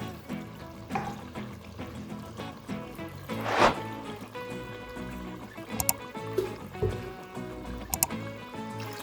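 Water pours from a small glass into a pot for rice pulao in a home kitchen, a gurgling splash and trickle with clinks of the glass, heard up close in a few bursts.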